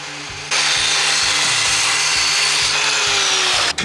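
Power saw cutting wooden boards to size inside an old shed being turned into a rustic workshop, the blade spinning up and biting steadily through the wood in one loud continuous cut before stopping.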